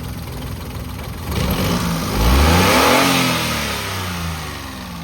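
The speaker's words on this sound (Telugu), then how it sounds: "ఇంజన్లో ఎటువంటి నాయస్ లేదు ఒకసారి ఆన్ చేసి చూస్తాను" A 2015 Hyundai Eon Era Plus petrol engine idles close by, revs up briefly, then settles back to a steady idle.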